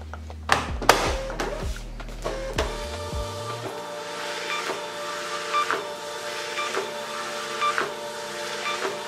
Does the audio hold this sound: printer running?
yes